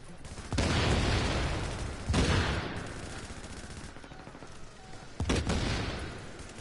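Bursts of gunfire and turret shooting in The Division, loud and close, with three heavy volleys rising sharply and trailing off into continuous firing between them.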